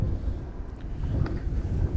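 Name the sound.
wind blowing into the microphone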